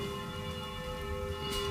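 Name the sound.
church bells ringing in the city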